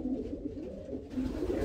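A racing pigeon, a national ace champion, gives low, soft, throaty coos up close, in a continuous rumbling murmur with no other sounds.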